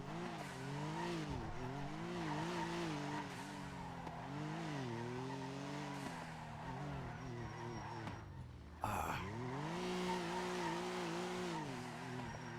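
Engine note of a car in the GTA NoPixel driving game, rising and falling through gear changes with a steady loud whine, plus tire squeal as the car oversteers through turns and a brief sharp burst near the end.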